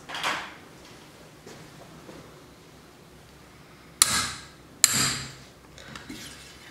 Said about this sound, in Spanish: Normalmente en esto hay que dar un par de golpes.